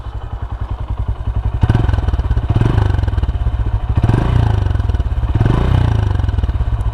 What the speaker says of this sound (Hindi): इसका आपको एग्जॉस्ट नोट सुनाता हूँ।